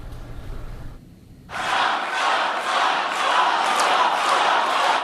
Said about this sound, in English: you also got some boos and some chants where people were chanting Trump